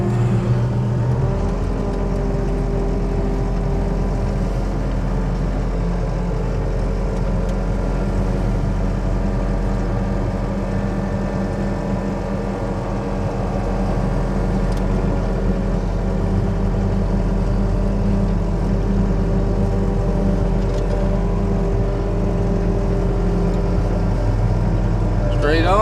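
Skid steer loader engine running steadily as the machine drives slowly off a trailer onto grass, a loud continuous low droning rumble close by throughout.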